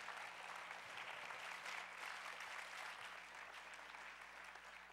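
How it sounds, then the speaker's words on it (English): A chapel gathering gives a round of applause, a quiet, distant-sounding stretch of steady group clapping over a low hum, tapering slightly toward the end. "Let's give them a round of applause and thank them."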